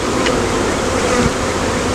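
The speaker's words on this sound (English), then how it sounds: "they're already mad if you can't tell them by them swarming around me right now" Agitated honeybees swarm around an opened hive box in spring, a dense, loud, continuous buzzing drone up close.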